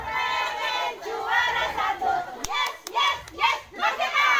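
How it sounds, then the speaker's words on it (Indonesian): A group of mothers chant and clap together while rehearsing a marching yell in Randusari, with sharp hand claps mixed into loud, lively group voices. "Ini tepuk tangannya."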